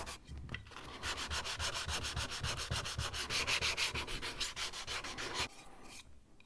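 Sandpaper rasps rapidly back and forth over the cut ends of wooden skewers, a close, steady scratching rhythm of quick strokes that stops abruptly near the end, with no talking.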